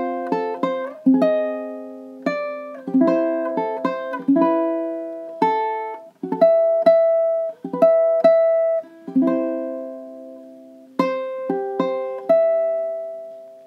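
Ukulele playing measures 17 to 20 of a song, clean plucked notes and short chord strums in a bouncy rhythm, close and clear with no talking.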